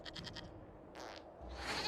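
A goat bleats in a video game, a few short wavering cries close up, followed by a brief scratchy rustle and a low rumble, fairly faint with no talking.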